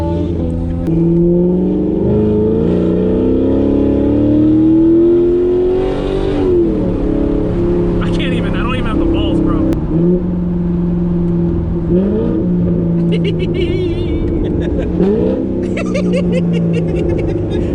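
A Chevrolet Corvette C7 Grand Sport V8 engine heard from inside the car on a night drive, loud and continuous, with rising revs through several gear changes and a steady engine drone between them.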